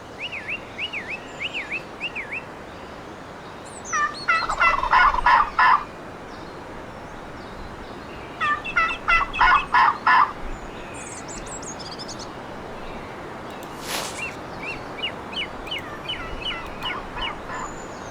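Wild turkeys gobble in the hunting video game The Season, with several rapid bursts of gobbling alone against a quiet outdoor backdrop, plus a few higher yelping calls at the start and near the end.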